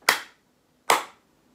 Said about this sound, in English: So we're going to do two claps